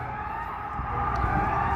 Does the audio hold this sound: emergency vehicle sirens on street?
yes